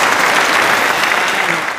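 Applause at a family birthday celebration, a loud, continuous burst of many hands clapping that fades a little toward the end.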